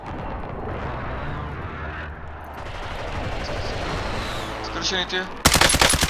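Rapid video game gunfire rattles in dense, continuous bursts under players talking over voice chat, ending in a sharp, loud volley.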